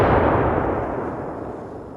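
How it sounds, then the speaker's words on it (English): A cannon booms from far off, a single deep blast whose rumbling echo slowly fades over two seconds. "A cannon going off in the distance."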